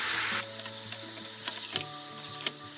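Daikon kinpira stir-fried over high heat with premixed sugar seasoning, sizzling loudly and steadily with a few soft scraping stirs, close and continuous, no talking.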